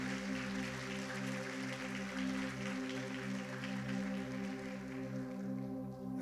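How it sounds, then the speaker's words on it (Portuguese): A church congregation claps together in a sustained, steady round of applause, with warm, held musical tones sounding underneath throughout. "Dê mais uma salva de palmas ao Senhor Jesus nessa noite"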